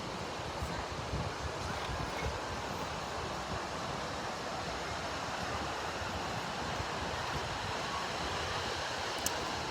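Steady ocean surf rolls in along the Atlantic seaside in southwest France, a continuous broad wash of breaking waves with some wind noise, no voices.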